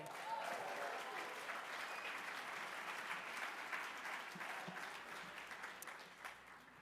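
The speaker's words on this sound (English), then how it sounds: "Guys, let's give him one more round of applause." An audience at an awards ceremony gives a guitarist a sustained round of applause, dense and steady clapping that fills the room throughout and eases slightly toward the end.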